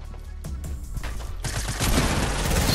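An explosive detonated in a video game sets off a loud, crackling burst of blasts and rapid popping that builds and keeps rumbling to the end, after a quieter stretch of game noise.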